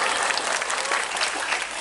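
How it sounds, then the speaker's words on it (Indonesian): Villagers at a lively Islamic religious gathering in Madiun, Indonesia, give a short, dense burst of hand clapping that holds steady and loud with crowd noise mixed in. "Oh ya tepuk tangan malah nggak apa-apa Bu Lurah."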